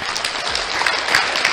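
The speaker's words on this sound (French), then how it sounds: "Ça s'applaudit." An audience at a French rap show on a music TV programme claps steadily and densely, a loud continuous applause throughout the short moment with no voices standing out.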